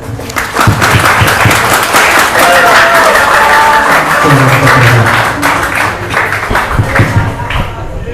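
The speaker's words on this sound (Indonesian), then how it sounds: "Beri tepuk tangan." Audience applause at an open examination event at an Islamic madrasah boarding school, steady dense clapping filling the whole stretch with crowd noise and some voices mixed in.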